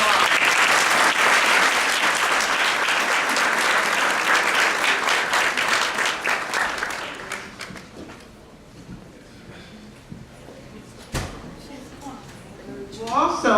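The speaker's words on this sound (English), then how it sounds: "Let's give our business competition winners another round of applause." Sustained applause for business competition winners at an awards event, a dense, even clapping that fades out after about seven seconds, leaving a quieter room with a few scattered sounds.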